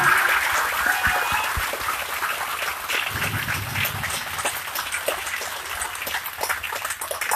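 Scattered, uneven clapping from an audience at a public address in Jaipur, loud at first and then thinning into looser, patchier claps.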